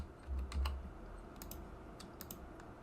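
Someone types a short burst on a computer keyboard, a few quiet, close key clicks followed by sparse lighter taps in a hushed room.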